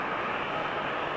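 Porter Airlines Embraer E195 jet at Toronto Pearson airport, heard as a faint, distant, steady engine rumble and whoosh that stays even for a brief moment with no voices.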